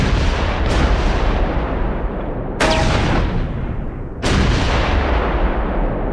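Artillery and gunfire exchange in the World War II strategy game Close Combat 4, Battle of the Bulge at Baraque de Fraiture: three loud, booming shots with long rumbling decay over a constant low battlefield roar, no voices.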